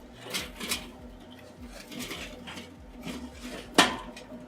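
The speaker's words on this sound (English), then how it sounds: "and then you take your hot coals and split it between both baskets." Hot charcoal is poured and split between two metal baskets in a Weber kettle grill, producing soft scraping and rattling clinks with one sharp metallic clank near the end.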